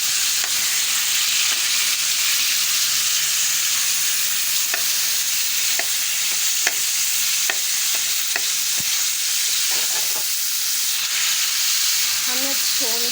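Meat sizzles and roasts in hot ghee in a kadai, a steady loud frying hiss with occasional stirring clinks and scrapes.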